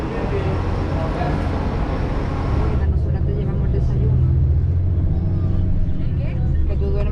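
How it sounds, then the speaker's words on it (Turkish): A city bus in Rome rumbles with a steady, loud low engine drone and road noise throughout, with a shift in tone midway as it moves, and a voice speaking over it. "İşte benim biletimi aldığım otobüs bu."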